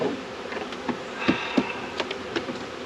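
Honey bees buzz busily around an 8-frame hive that is trying to swarm, a dense, close hum with individual bees zipping past the microphone in short louder passes.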